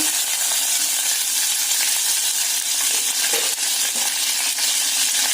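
Curry leaves crackle and sizzle in hot oil while tempering Konkani-style godi dal, a steady close-up frying hiss with a few sharp pops.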